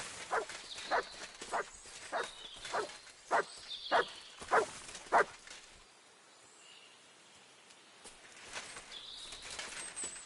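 A dog in Kingdom Come Deliverance 2 barks repeatedly in a rough, evenly spaced series at moderate distance, then falls quiet while faint birdsong carries in the background.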